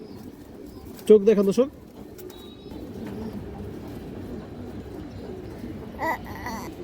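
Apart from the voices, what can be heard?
pigeons cooing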